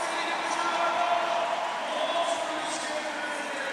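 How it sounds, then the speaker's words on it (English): Crowd at a São Paulo skateboarding final cheering for skateboarder Felipe, a steady wash of distant applause and cheering held at an even level throughout. "Crowd showing love to Felipe."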